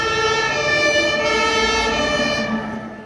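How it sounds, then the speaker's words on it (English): A fire engine siren wails loudly and steadily from close by, its tone holding with a slight shift, over a low engine rumble before fading at the end. "Miss Rabbit puts on the siren"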